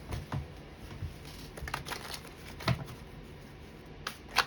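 Tarot cards shuffled by hand, with soft repeated riffling bursts and a few sharper snaps toward the end, close and fairly quiet, with no talking.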